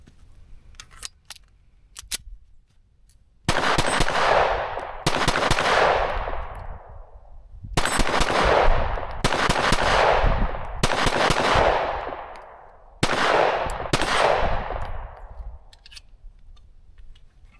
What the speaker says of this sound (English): Okay, let's shoot another mag here.